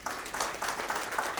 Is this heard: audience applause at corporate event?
yes